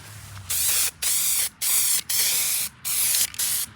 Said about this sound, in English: We spray paint our fake grass because it's so stinking hot.